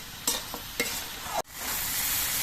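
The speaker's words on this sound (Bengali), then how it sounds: "নুন দিয়ে সব সবজিগুলোকে মিশিয়ে নিতে হবে দিয়ে কিছুক্ষণ সবজিগুলোকে ভেজে নিতে হবে" Vegetables with salt and green chilli sizzle as they are stir-fried in a pan, a few sharp scrapes of the spoon breaking into a loud, close, steady hiss, with no talk.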